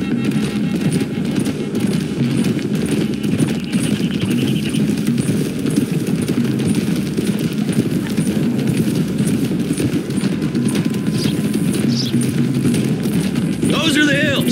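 Horses' hooves clip-clop steadily as a group rides along a hill road in Red Dead Redemption 2, a continuous rhythmic trot under a low rumbling bed of game ambience.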